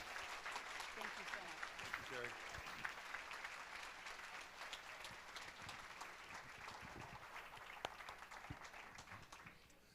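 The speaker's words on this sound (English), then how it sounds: "Give a round of applause." Banquet audience clapping in a hall, sustained applause with distinct individual claps audible, while a voice speaks over it near the start.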